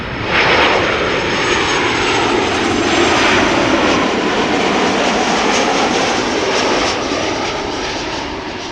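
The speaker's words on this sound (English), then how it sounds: "You can see the airplanes They are approaching this runway quite well" Airplane engines roar loudly and steadily as aircraft approach the runway at Amsterdam Schiphol Airport, a broad continuous rumble that swells slightly and fades near the end, with no voices.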